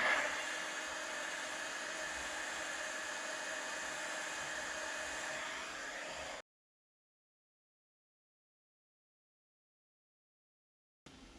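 A heat source blows on 3D printed lock washers to soften them for bending, a steady airy roar like a hair dryer that runs unbroken, then cuts out to silence and briefly returns at the end.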